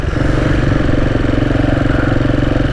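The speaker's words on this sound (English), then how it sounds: "And we got a bike right beside us." Motorbike engine idling right alongside on a cobblestone street in a Mexican port town, loud and close, with a steady rapid pulsing throb and mechanical clatter that never lets up.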